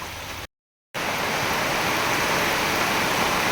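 A pot of pabda fish curry boils with a steady, dense hiss and bubbling that briefly cuts out and then returns just as loud.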